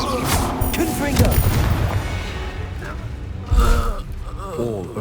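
A Confringo fire spell from Hogwarts Legacy bursts in a deep, rumbling explosion partway through a dense wash of game noise, with a voice speaking over it.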